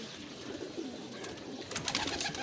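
An Imamdeen pigeon coos softly in a pigeon club loft, a low murmur against steady background noise with no talking.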